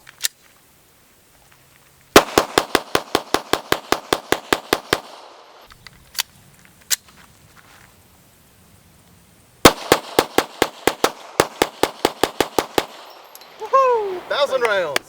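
Hudson H9 pistol firing: two long strings of fast, sharp, evenly spaced shots, each about a dozen or more rounds, loud and close, with a lull of handling noise between them and a voice shouting right after.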